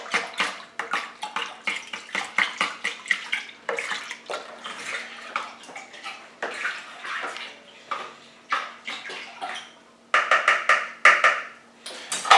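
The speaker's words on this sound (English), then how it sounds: "give that a good stir as well" Alcoshot vodka and Red Bull spirit mixture stirred in a container, giving repeated close sloshing, splashing water sounds in uneven bursts with brief pauses, one louder burst near the end.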